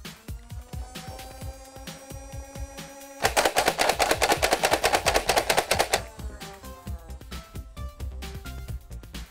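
A 2020 Nerf Halo MA40 semi-auto blaster fires darts in a rapid, evenly spaced run of sharp clacks lasting a few seconds, with mechanical clicks and handling noise before and after.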